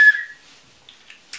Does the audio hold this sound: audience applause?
no